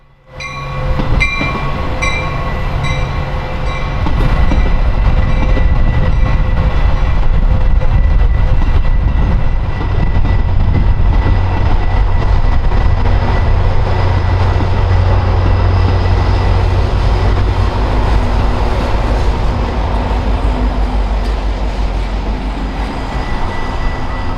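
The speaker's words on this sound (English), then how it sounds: "we would get our final MP36 sighting of this visit" A Metra MP36 commuter locomotive hauls its train past in downtown Chicago during the morning rush, a loud, steady diesel roar with rolling wheel rumble and tonal engine whine filling the whole stretch.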